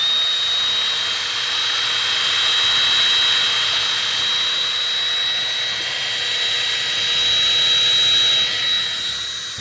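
Corded electric drill pre-drilling holes through steel carport roofing sheets, a loud sustained high whine with a steady tonal edge running without a break, no talk.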